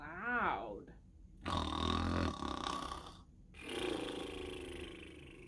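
A voice imitates loud snoring in a few drawn-out, rasping snorts with short pauses between them.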